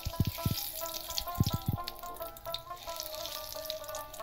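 Eggplant and black cumin seeds frying in hot oil for an eggplant and hilsa curry: a soft steady sizzle with a few sharp clattering bursts near the start, close and fairly quiet.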